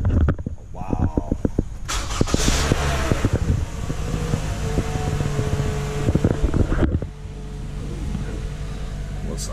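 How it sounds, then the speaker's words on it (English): A Toyota Camry LE with a 2.5L four-cylinder engine, left unused for a while, starts cold: a broad rush of engine sound begins about two seconds in, holds steady and close, then drops off near seven seconds into a lower hum. "this will be a cold start right here"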